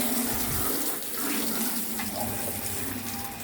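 Running water rinses the disassembled parts of a repaired appliance cabinet, all pieces removed and washed clean, a steady close splashing flow with no voices.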